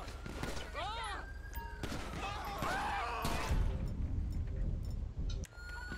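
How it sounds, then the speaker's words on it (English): Gunfire cracks out in a police mod of Grand Theft Auto V as gangs fight cops, with scattered sharp shots over a background of warbling sirens and engine rumble. "Shots fired."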